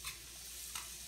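Soft steady sizzle of food frying in a pan, quiet and continuous, with a couple of faint scraping stirs.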